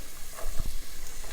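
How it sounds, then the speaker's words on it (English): Chopped celery and fennel sauté in a hot pan, giving a steady, close sizzling hiss with a couple of brief stirring thumps partway through. "It's hot enough, you hear the sizzle."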